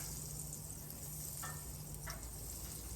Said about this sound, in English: These things are going to fry fast.